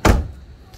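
Toyota AE92 car door swung shut with a single solid thud at the start, its weight fading quickly into a faint, quiet cabin.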